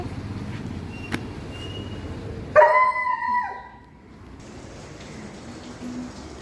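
A single dog bark rings out briefly in the middle, over a steady outdoor hiss that resembles light rain.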